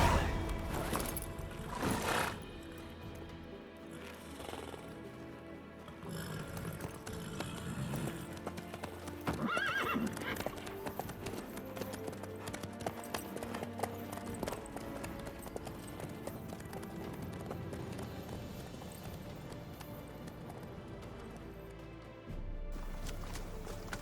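Horse hooves clip-clop steadily in The Witcher 3, the mount sometimes neighing, under game music and ambient sound throughout.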